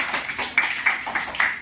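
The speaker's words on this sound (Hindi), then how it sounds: "चलो दामिनी के नाम की ताली लगाओ सभी बच्चे" A group of children in a classroom claps in a quick, irregular patter, several light close claps overlapping in short bursts.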